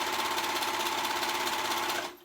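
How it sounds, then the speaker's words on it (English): A sewing machine runs steadily while stitching the side seam of a girl's dress, a continuous close whir with fine rapid stitch texture that stops abruptly at the end. "so we're sewing this side up."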